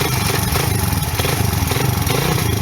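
A Honda XR 125 motorcycle engine running close by after being kickstarted, with a loud, continuous, throbbing putter that holds a steady idle.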